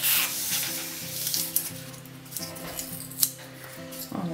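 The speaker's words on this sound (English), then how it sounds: "I want to cut my polystyrene ball in half" Scissors or a blade snip and saw through a polystyrene ball to halve it for fake whipped cream, a run of close, crackly squeaking cuts with music-like tones underneath.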